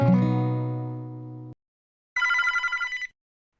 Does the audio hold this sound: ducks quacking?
no